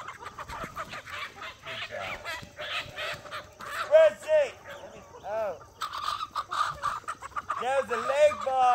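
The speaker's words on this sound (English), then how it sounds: "The leg bar going after a breasty female, a leg bar rooster." A Legbar rooster chasing a hen on a homestead gives repeated squawking and clucking calls, near and fairly loud, with other fowl joining in.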